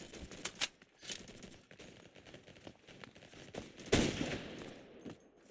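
Video game gunfire, scattered bursts of sharp rapid shots with one louder blast near the end, irregular and fairly near, no talking.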